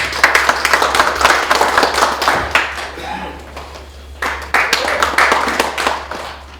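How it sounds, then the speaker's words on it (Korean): Applause from a seminar audience at a magazine innovation forum in Korea, welcoming the steering committee chair to the podium: a few seconds of scattered clapping that thins briefly before a second burst, with a voice talking over part of it. "박수로서 모시도록 하겠습니다"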